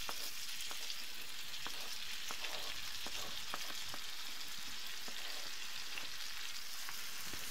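Tomatoes for menemen sizzle in a pan, a steady bright frying hiss with small crackles and pops, close and alone.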